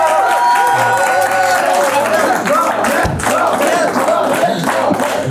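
A live audience at a roast-style face-off bursts into loud, sustained applause and cheering with shouts, a dense continuous roar of clapping and crowd voices close by.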